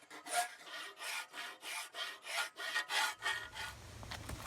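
A rasp and file shaping the handle of a Colombian machete, a steady series of about a dozen close rhythmic scraping strokes, each a harsh rasp, with a low hum entering toward the end.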